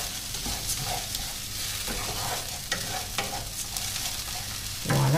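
Pasta being stirred in fat in a pan over low heat for a pasta risotto with spring vegetables, a soft continuous sizzle broken by scraping stir sounds and a few light clicks, close by with no voices.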